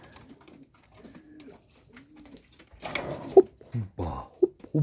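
Soft, low pigeon coos roll in a few separate bursts, with faint rustling and fluttering between them; the calls are close and moderately loud.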